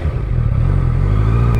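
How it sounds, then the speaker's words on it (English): A Honda CBR 650F fitted with a full Akrapovic exhaust system runs with a loud, close, steady engine drone and slight clatter, the deep rumble holding constant throughout. "By the way, this motorcycle has an Acra Powich exhaust,"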